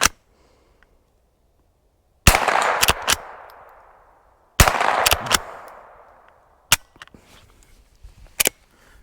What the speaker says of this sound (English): Some of those rounds really, it sounded like they didn't have enough powder